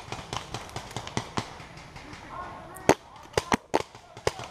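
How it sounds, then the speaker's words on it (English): Paintball marker fires a rapid string of sharp pops outdoors, about five or six close, loud shots in quick irregular succession, with earlier fainter pops from farther off across the field. "So right now I start shooting at nothing."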